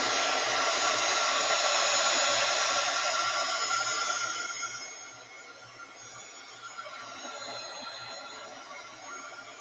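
A dryer blows steadily onto a fabric design laid on an old dish towel, a loud close airy rush that drops to a softer, quieter blowing about halfway through with no one talking.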